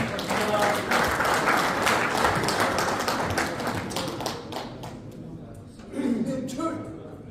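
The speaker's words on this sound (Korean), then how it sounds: "감사하는 의미로 여러분들 큰 박수 한번 부탁드립니다" Audience at a Korean regional association inauguration ceremony breaks into applause, dense clapping filling the room for several seconds before fading, with a brief renewed burst near the end.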